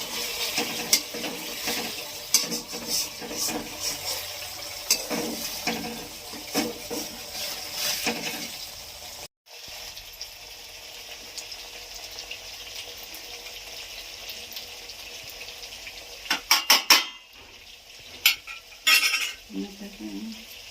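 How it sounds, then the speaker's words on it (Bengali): Bengali-style fish curry is stirred in a pan with frequent scraping and clinking of a utensil against the metal. A brief pause comes partway through, and a faint sizzle runs underneath. "গ্যাসটা একটু কমিয়ে দিতে হবে, দিয়ে নাড়তে হবে।"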